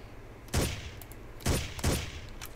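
Three loud gunshots ring out with echoing tails during a Ghost Recon firefight, spaced about a second apart over a quiet background.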